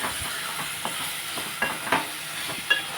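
Chopped tomatoes and onions cook down in a pan for a tomato-onion chutney, giving a soft steady sizzle with a few light clicks of stirring, no voices.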